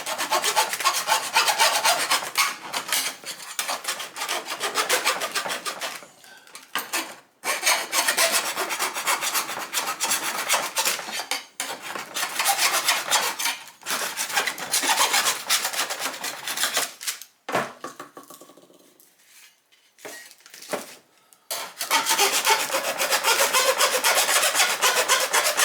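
Hand file rasping burrs off a freshly cut edge during a single DIN touchscreen stereo install in a 1977 Camaro Z28: long runs of rapid back-and-forth scraping strokes, close and loud, broken by brief pauses.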